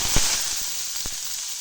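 Onion frying in hot oil with mustard seeds and black cumin, a steady soft sizzle with a few sharp pops from the seeds, close and alone.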